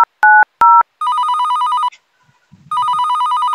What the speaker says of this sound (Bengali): আমি ফোন লাগাচ্ছি